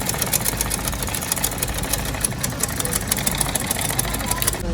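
A sewing machine top stitches a shirt sleeve placket with white thread, making a rapid, steady, close mechanical needle chatter that runs continuously and stops just before the end.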